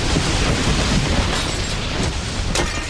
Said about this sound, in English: that jet engine comes crashing through Donnie's empty bedroom